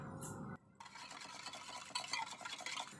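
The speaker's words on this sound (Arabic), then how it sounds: "خلاص كده انا دوبت النسكافيه والسكر في الميه الدافيه" A spoon stirs Nescafé and sugar into warm water for tiramisu, a close, quiet swirling with light scraping and clinking against the bowl that continues without pause.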